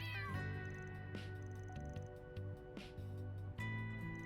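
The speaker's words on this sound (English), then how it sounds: "Is the cat up here?" A cat in the video game Trails Through Daybreak 2 meows several times on a rooftop, close and clear, with short wet squishing ticks and light game tones between the calls.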